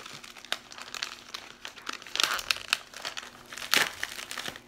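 A paper envelope holding baseball cards is opened, giving bursts of crinkling and tearing paper, close and fairly loud, in uneven handling rhythm.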